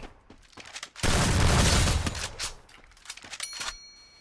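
Gunfire in the video game Free Fire: a dense burst of rapid shots lasting about a second, set among scattered single pops and clanks, loud and close, with no talk.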